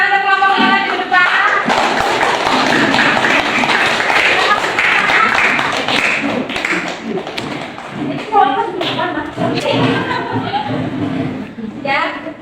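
A classroom of students claps for group 5 during a school lesson, giving a loud, fairly brief burst of applause mixed with taps and thumps, then lively chatter and a teacher's voice over the fading claps.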